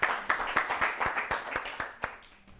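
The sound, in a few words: audience applause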